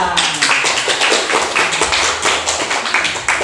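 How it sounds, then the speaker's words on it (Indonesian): A group of students claps their hands together in a classroom, producing a steady run of loud, fairly rhythmic claps that fill the whole stretch without pause. "Oke, tepuk tangan buat kita semua"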